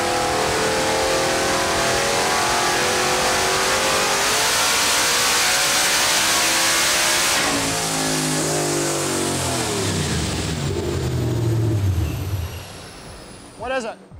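A 496 cubic-inch stroker big-block Chevy in an S10 roars loudly under full throttle on a chassis dyno, climbing steadily in pitch through the pull before cutting off and dropping away near the end.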